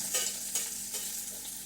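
Onions frying for kadhi in a hot pan, crackling and sizzling close up while being stirred, with a few louder scraping strokes over the steady hiss.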